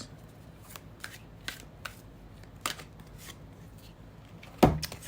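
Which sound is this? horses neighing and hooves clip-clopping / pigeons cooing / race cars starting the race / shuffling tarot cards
shuffling tarot cards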